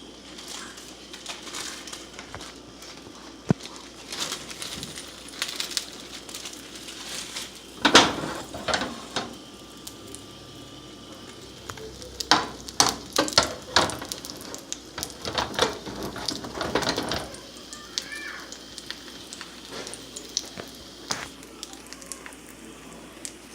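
An almond flour roti cooks in a lightly oiled pan, a soft steady sizzle running throughout with scattered clicks and brief clatters of handling.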